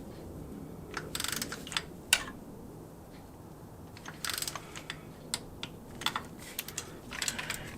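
A torque wrench tightens the starter motor bolts on a 1990–1994 Lexus LS400 to 13 foot-pounds, giving quiet ratcheting clicks in short irregular clusters with one sharper click standing out, close and faint.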